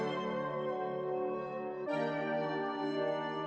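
A dark, atmospheric synth sample plays with EQ and halftime effects, a sustained rich tone that shifts to a new chord midway and stays quiet and steady, with no voices.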